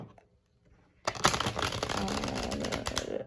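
After a second of near quiet, a tarot deck is shuffled close by in a continuous dense riffle of crisp card flutter lasting about two seconds, with no talking over it.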